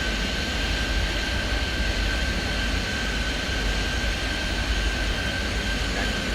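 A jet airliner rolls and takes off in Airport Madness 3D, a steady engine roar with a constant tone, loud and unbroken with no talk.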